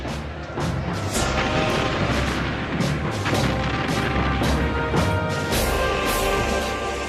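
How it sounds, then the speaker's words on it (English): Heavy booms of naval cannon fire from the Battle of Lepanto thud repeatedly over a dense, rumbling backdrop of battle noise, several blasts following one another. "The battle began amidst a blaze of cannon fire."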